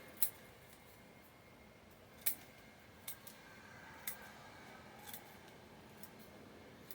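Small scissors snip a procumbens nana juniper bonsai, making several sharp, faint clicks spaced irregularly over quiet background hiss.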